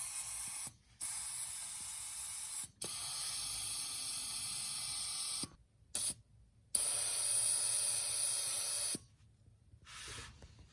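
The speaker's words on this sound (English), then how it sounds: "just gonna hit all of the bolts with liquid wrench before I start" Liquid Wrench penetrating oil sprays onto the transmission mount bolts of a 1997 Mazda B2300 pickup, several loud close hissing bursts of varying length separated by short pauses.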